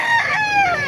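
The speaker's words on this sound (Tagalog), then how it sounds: "napakarami manok dito" A rooster crows loudly and close by in a busy Bocaue market full of chickens, one long drawn-out call that fills the whole second, with faint crowd noise beneath.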